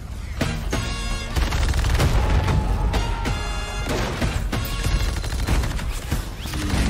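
Dense, continuous multiplayer gunfire from Call of Duty: Vanguard, rapid repeated shots and booming impacts layered over a loud, busy battle mix with no pauses.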